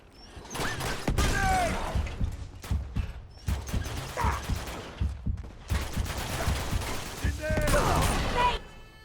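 Gunfire from a soldier in Uncharted 2: Among Thieves, sharp bursts of rapid shots in several volleys with pauses between them, fairly close, mixed with game effects and a voice talking.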